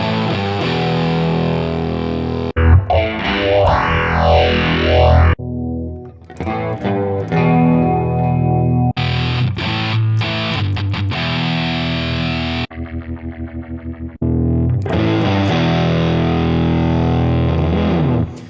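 Distorted electric guitar through an Avid Eleven Rack amp modeler, switching through many different preset tones and effects, short riffs and chords cut abruptly from one sound to the next, loud and close.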